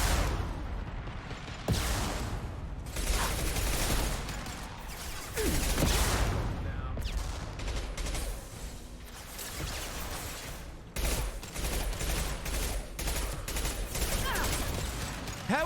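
A heavy weapon fires repeatedly in the Mass Effect 2 video game: dense, booming blasts and crashing impacts in several bursts with brief gaps between them, loud and close.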